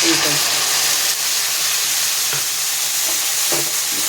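Spice paste of ground cumin and chilli being stirred in a frying pan with potatoes, giving a steady loud sizzle and hiss with scraping strokes throughout.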